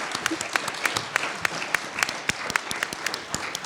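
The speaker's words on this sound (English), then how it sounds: "can we give a round of applause to the panelists and thank them?" Applause for the panelists at a university town hall meeting, a modest number of individual hand claps ringing out in an irregular pattern in a fairly quiet room, with faint voices underneath.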